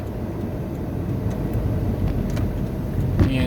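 A micro camper drives through traffic, its engine and road noise a steady low rumble close by, with tire hiss and passing vehicles blending into a continuous drone.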